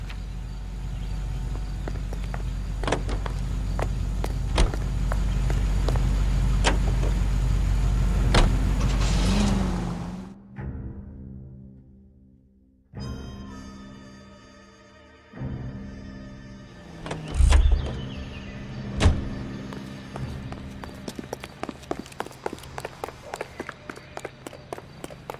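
Car driving with a steady engine rumble and road noise for about ten seconds, followed by quieter moments, door and mechanism clunks, and scattered knocks and footsteps.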